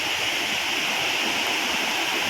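Njandirukki waterfall at Velliyamattom near Thodupuzha, running full in the monsoon season, gives off a continuous broad rushing roar of cascading water, loud and even throughout with no other sounds.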